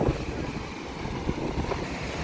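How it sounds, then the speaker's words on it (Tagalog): Strong coastal wind at a fish market in Ghana buffets the microphone with a constant roaring rush and occasional gusty thumps, with no voices. "So malakas talaga yung hangin dito."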